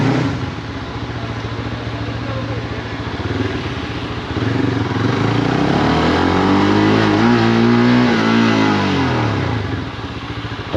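An Aveta VZR250 250cc Jialing motorcycle rides along with a loud, close engine drone that climbs and falls in pitch as the rider revs through the gears.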